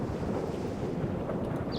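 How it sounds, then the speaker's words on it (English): Strong wind gusts roar steadily at high altitude in Minecraft, a loud continuous rushing with no talk. "You can see how windy it is up here because I'm at a height of 129. And the wind blows harder the higher you go."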